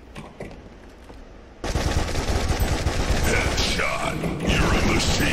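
Rapid automatic gunfire from a weapon in the retro shooter Darkenstein 3D, starting abruptly after a quieter mechanical click and continuing as a loud, dense burst with game sound effects layered over it.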